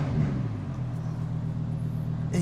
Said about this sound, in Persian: حالا ما میریم رو مود اسپورت، یه دونه گاز میدیم و خودتون گوش بدید.